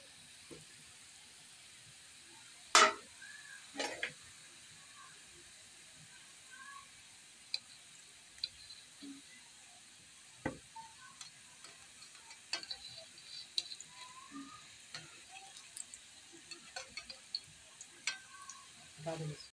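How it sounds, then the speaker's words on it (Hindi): Cornmeal and sesame biscuits frying in hot oil give off a faint, steady sizzle dotted with soft crackles and pops, with little else around them. "ऐसे हम सारे बिस्किट फ्राई कर लेंगे।"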